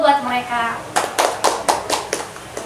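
A short burst of scattered hand claps for two students honored for ranking first in their grade on a school podcast, about seven sharp claps following a brief spoken phrase.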